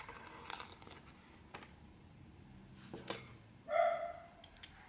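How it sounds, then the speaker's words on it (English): A single faint dog bark sounds from a distance in a quiet room, preceded by soft shuffling noises. "There goes my dog barking."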